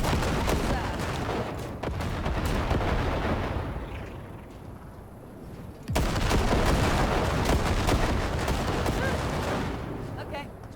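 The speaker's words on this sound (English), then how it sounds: "Now let's do some shooting." Continuous loud gunfire and explosive booms in the Cyberpunk 2077 video game, a dense barrage that eases briefly and then surges back with a sharp blast, with talk faintly underneath.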